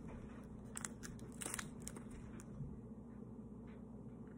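A few close, crisp crunches as a crunchy snack is bitten, with quiet chewing over a low steady background hum.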